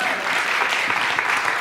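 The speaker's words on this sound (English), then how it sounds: "You can applaud for that." Audience applause in a lecture or talk setting, a dense, even patter of clapping that stays at a moderate level throughout, with no voice over it.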